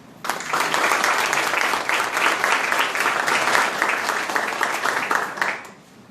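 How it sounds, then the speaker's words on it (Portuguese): Loud, sustained applause fills a hall at a municipal ceremony for lawyers' prerogatives in Guarulhos, dense clapping that rises sharply, holds steady for several seconds and then tapers away. "Palmas altas"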